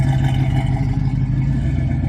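Engine of a 1966 Pontiac Catalina wagon idling close by, a steady low rumbling burble with even tone and slight clatter, no voices.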